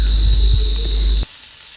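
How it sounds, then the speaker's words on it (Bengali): Cumin seeds and chopped garlic frying in hot oil, a close, steady hiss and sizzle that cuts off abruptly after about a second and a quarter, leaving near silence. "তেলটা গরম হয়ে গেলে এখন এর মধ্যে দিয়ে দিব সামান্য পরিমাণ জিরা, কেটে রাখা"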